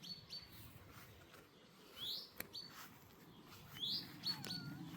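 Small birds give a few short, high chirps and tweets in a garden, scattered and fairly faint over a soft outdoor background.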